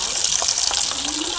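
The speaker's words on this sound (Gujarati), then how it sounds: "તો ગાય સવારનું પાણી આવી ગયું." Morning tap water gushes steadily into a container, a loud continuous rushing stream that fills the whole moment, with faint voices in the background.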